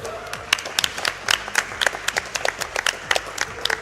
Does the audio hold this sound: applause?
yes